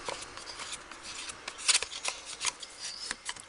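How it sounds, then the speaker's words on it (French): Paper or thin cardboard being scored along fold lines while making a pencil box, a quiet run of crisp scraping and rubbing strokes with short sharp accents, close and alone. "Donc maintenant vous pouvez marquer les plis."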